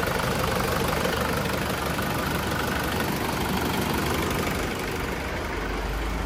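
A mini loader's engine idles outdoors with a steady, even, mid-low rumble. It runs continuously with no talking.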